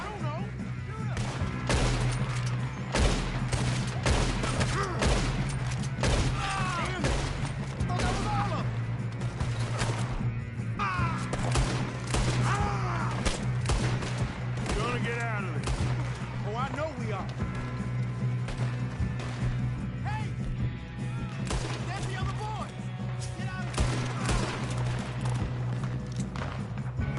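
Dense, continuous gunfire in a Red Dead Redemption 2 shootout, with rapid overlapping shots and crackling bursts throughout over steady game background noise and a voice speaking.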